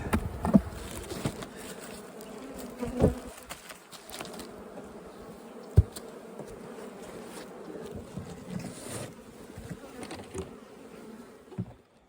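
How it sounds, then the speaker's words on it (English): Honey bees buzz around their hive on a cold day before a snowstorm, a steady close drone with individual bees zipping past the ear now and then and a few soft knocks. "And these bees have gotten bitchy."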